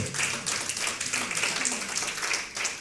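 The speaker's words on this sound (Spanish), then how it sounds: "Alguien dile un aplauso al Señor." A church congregation claps during a Spanish-language sermon, a moderate wash of applause with some voices and murmurs mixed underneath throughout.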